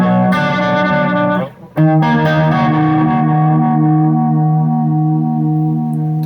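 Electric guitar played through a T.C. Electronic Noise Sentry gate, a Julia chorus and a Fathom reverb, giving loud distorted chords with a lush chorused shimmer and reverb tail, briefly cut short before the next strummed chord rings out.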